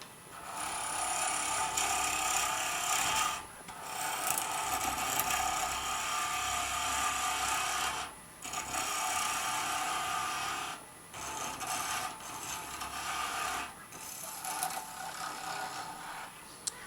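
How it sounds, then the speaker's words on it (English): A roughing gouge cleans up a used pen tube spinning on a wood lathe, making a continuous close rasping scrape that runs in long stretches with brief pauses where the tool lifts off. "I'm going to use a roughing gouge for this."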